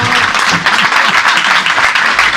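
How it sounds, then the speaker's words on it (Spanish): Dense, steady applause from a seated audience at a book presentation in Madrid, a continuous wash of many hands clapping close by, with no voices standing out. "gran aplauso para la autora y para Germán Terz, por favor."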